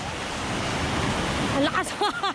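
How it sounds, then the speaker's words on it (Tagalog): Strong sea waves surge and wash onto the beach at Finale Ligure, a loud, continuous roar of surf with wind buffeting the microphone, while voices speak briefly near the end. "Ang lakas ng alon."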